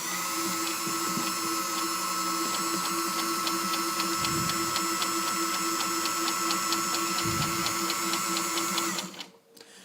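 A restored vintage Modernage sewing machine stitches material at a slow, steady pace, its needle tapping out an even run of rapid, close mechanical clicks over a constant motor whir until it stops near the end.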